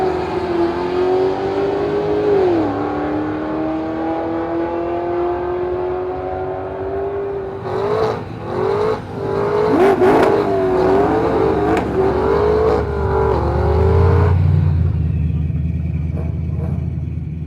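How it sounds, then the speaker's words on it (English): Cars revving at Holley LS Fest West with drifting and drag racing, a loud sustained engine wail rising and dipping in pitch, with sharper throttle blips midway and a deep rumbling pass near the end, heard from a distance. "now they're doing drifting, and then there's more of the drag racing, and I think they're doing donut pits still too"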